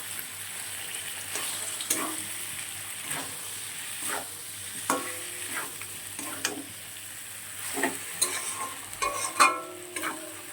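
Potatoes for a pointed gourd curry being sautéed in a pan, a continuous close sizzle with repeated spatula scrapes and stirs, growing busier and louder toward the end, no talking.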